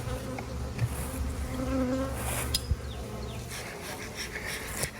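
Honeybees buzz steadily at a hive entrance, a close, continuous droning hum with individual bees whizzing past.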